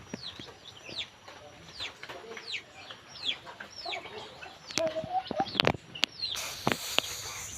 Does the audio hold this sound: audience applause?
no